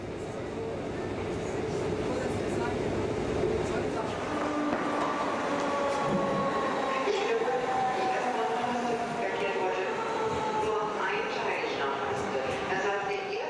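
A DB Class 424 four-car electric multiple unit in Hannover gives a steady, loud rumble with rising motor whine throughout, while a voice talks over it.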